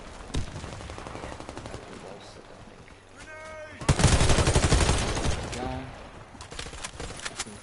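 Gunfire in the online shooter Warface crackles in rapid automatic bursts, faint at first and then a loud, dense volley around the middle before tapering off, with a player talking quietly throughout.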